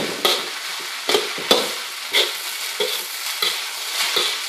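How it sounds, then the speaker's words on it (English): Fried rice is folded and mixed in a pan over low heat, with a soft continuous sizzle broken by regular scraping strokes of a utensil about once a second. "So I've got it on a low heat while I'm mixing it up."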